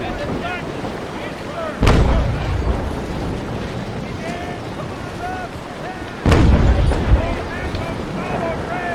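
Two heavy booms of ship cannon fire in Naval Action ring out over steady wind and sea noise, with faint whistling tones between shots.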